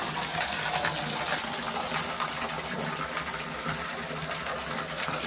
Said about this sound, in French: Des petits pas japonais avec la petite rivière en dessous qui mène à la cascade divine.